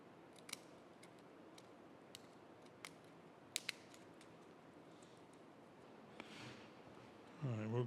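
Scissors snipping a piece of drill grinder belt lacing, a handful of sharp, isolated clicks scattered across a quiet workshop background, with a brief louder sound at the end.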